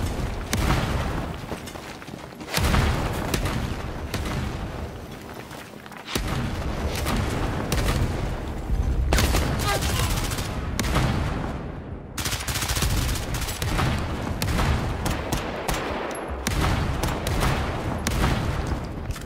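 A mounted gun in CrossfireX fires sustained loud bursts, dense booming rounds with brief gaps between volleys, close and continuous.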